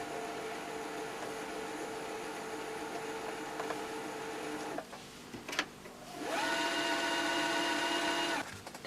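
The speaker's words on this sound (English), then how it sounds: "This speed setting also regulates how fast the bobbin turns when you filling your bobbin" A computerized sewing machine winds its bobbin with a steady, close mechanical whir that halts briefly midway, then resumes at a higher, louder pitch before stopping near the end.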